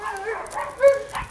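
A hyperactive dog being led out for training gives a few short, close yips and whimpering barks in a quick burst.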